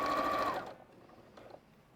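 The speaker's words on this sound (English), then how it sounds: "Just watch as you come near your seams that you're flattening them down to go through the machine." A sewing machine stitches a quilt block for a Crazy Eights quilt, running steadily and loud for about half a second before stopping, followed by faint handling sounds and soft clicks as the fabric is adjusted.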